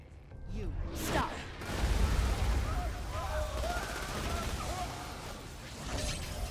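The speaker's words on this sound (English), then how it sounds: "I saw those bombs dropping" Bombs fall and burst in the Borderlands 2 shooter, with a descending whistle followed by a rumbling series of blasts and rapid gunfire, fairly quiet overall beneath a talking voice.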